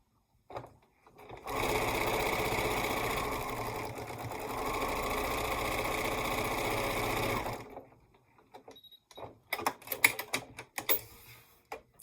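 A sewing machine stitches fabric pieces together in one steady, buzzing run of about six seconds, close and loud, then stops, followed by scattered light clicks and handling noises.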